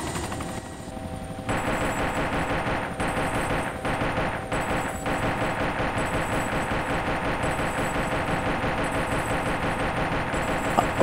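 Helicopter-mounted machine guns in the DayZ video game fire long, loud, rapid bursts over the steady drone of the rotor, with a couple of short breaks between volleys.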